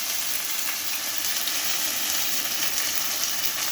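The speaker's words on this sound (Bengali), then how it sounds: "মশলাটাকে ভেজে নেবো, তো এই জন্য হলুদ গুঁড়োটাও দিয়ে দিলাম। মশলাটা একটু ভেজে নেব।" Dry chili, cumin and coriander powder, along with turmeric and ginger paste, frying in hot oil for a curry with kochur loti, giving a steady, dense sizzle close by with no talk.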